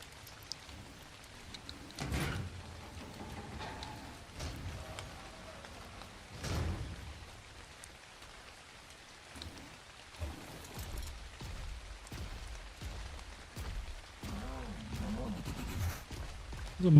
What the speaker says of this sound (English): the freaking rain's got it all dark